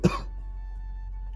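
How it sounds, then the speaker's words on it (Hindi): A man who has been ill for several days coughs once, a single short cough close to the mic, followed by quiet background hum. "खांसी भी लगी है 3-4 दिन से बहुत ज़्यादा"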